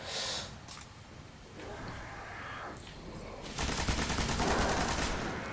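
Heavy-weapon gunfire in the Destiny video game, set at the Temple of Oryx: bursts of game shooting in the opening seconds, then a loud, dense stretch of rapid fire near the end.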